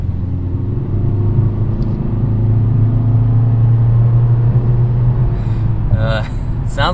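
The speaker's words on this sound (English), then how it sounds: "Sounds like a 4-cylinder." 2021 Volkswagen Passat R Line four-cylinder engine accelerating onto a highway, a steady droning rumble inside the cabin under road noise, with a short spoken voice near the end.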